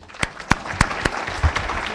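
Scattered claps from an audience at a book presentation event in a hall, a few sharp distinct claps spaced through two seconds rather than a full roaring ovation, fairly close.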